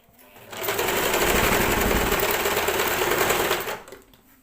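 Sewing machine stitching the slit of a churidar, a fast, loud mechanical rattle running steadily for about three seconds before slowing to a stop.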